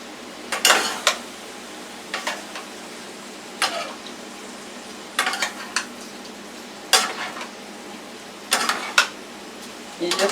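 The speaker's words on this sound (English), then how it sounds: "You just gotta mix it like it's a stir fry." Utensil scraping and clattering against a pan as egg noodles, chicken and mixed vegetables are stirred together in a sauté, in short repeated bursts of clinks and scrapes with quiet pauses between them, close by.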